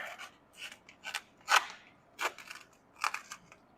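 Wash containment mat material for indoor car washing being cut, a series of short rasping snips and scrapes in irregular bursts, close and moderately loud with no talking.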